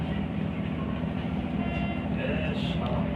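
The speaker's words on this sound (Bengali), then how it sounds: "সারা ট্রেন খালি আমরা ট্রেনের ভিতরে সম্পূর্ণ" Inside an almost empty moving passenger train in Romania, a steady low rumble of wheels and carriage noise continues evenly, with a faint higher squeal near the end.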